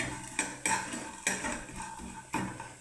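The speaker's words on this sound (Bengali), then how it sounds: "ব্যাস, আর একটু ভেজে নিচ্ছি ম্যাগিটাকে।" A metal spatula scrapes and clinks against a pan while Maggi noodles with vegetables and coriander leaves are stirred and fried, several sharp knocks spaced unevenly, close by.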